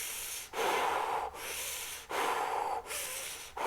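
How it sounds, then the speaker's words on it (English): Forceful bellows breathing exercise: four rapid, loud breathy bursts through the nose in a steady rhythm, each rushing inhale or exhale separated by brief pauses, close to the mic with no talk. "to me it feels like a real like bellows breath"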